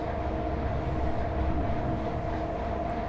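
An ÖBB 1189 Krokodil electric locomotive on the Semmering railway in Train Simulator runs with a steady, close rumbling roll of wheels and motors, a sustained hum held throughout with no talk.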